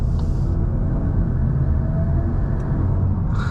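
A Volkswagen MK8 Golf R's turbocharged engine heard from inside the car while driving in comfort mode: a steady, continuous low rumble of engine and road noise, with no one talking.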